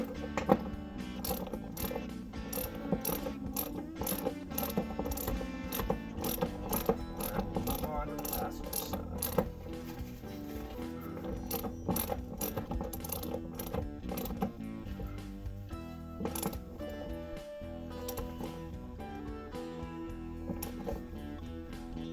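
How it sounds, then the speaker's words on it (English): A ratchet clicks in quick rapid runs as a bolt is threaded and tightened on the rear seat of a 1979 Trans Am, with steady mechanical ticking and occasional metal taps throughout. "I'm going to thread this bolt in"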